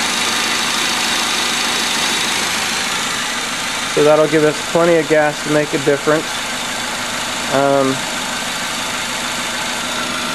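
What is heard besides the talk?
2-liter car engine idling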